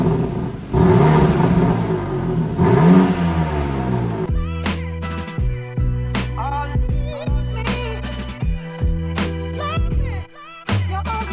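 BMW M4 before its rebuild, fitted with a single mid-pipe exhaust: a loud, rough rumble for the first few seconds, then a string of sharp, repeated revs that climb and fall back in quick bursts, heard up close with no talk.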